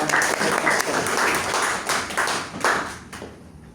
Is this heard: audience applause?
yes